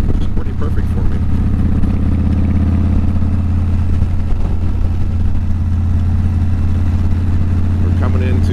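Victory Kingpin motorcycle engine running steadily while riding along northern Ohio roads, a loud continuous low drone with a constant throttle hum throughout, close to the microphone and dominant the whole time.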